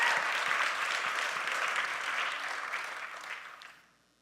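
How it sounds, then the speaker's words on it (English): A crowd at a business association's annual general meeting gala in Toronto applauds steadily for a few seconds, the clapping fading out at the end. "A huge round of applause for that effort."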